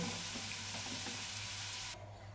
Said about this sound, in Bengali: একদম আমি ভেজে নেব। তো দেখুন এখানে আলুগুলো ভাজা হয়ে গেছে।